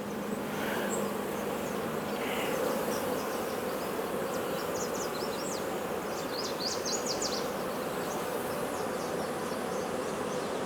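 A dense, continuous drone of many bees buzzing close by, steady and loud throughout with no voices.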